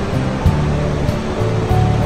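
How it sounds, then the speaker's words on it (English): Middle Falls in Letchworth State Park roars as a steady, dense wash of falling water, loud and unbroken, with faint low tones drifting beneath. "Middle Falls is a dramatic waterfall with various viewpoints."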